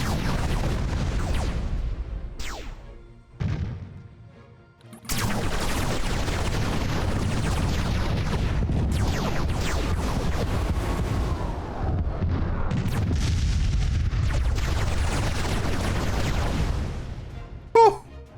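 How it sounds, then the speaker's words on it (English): Missiles and phaser fire rage through a space battle in the Master of Orion strategy game, a dense, loud, continuous barrage of booming blasts broken by a brief lull and a few sharper hits. "they're still using missiles. Which, as you can see, are mostly getting destroyed. And then we've got phasers coming off over here."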